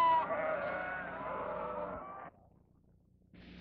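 Sheep from a Basque sheepherder's flock bleat in a long, wavering, nasal cry that holds for about two seconds, then stops, with another bleat starting right at the end; no talking.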